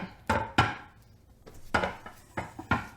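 A plastic knife cuts through a frittata into six pieces, giving five short scraping, tapping strokes against the dish in two clusters, close and fairly quiet with pauses between.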